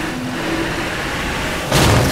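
An unarmored car engine in the zombie survival game State of Decay 2 hums at a steady idle, then surges into a loud rev near the end.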